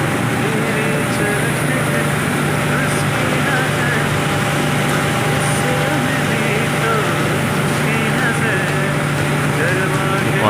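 Rice polishing machinery runs in a rice mill, a loud continuous mechanical drone with a steady hum and grainy rushing, unchanging throughout and with no talking.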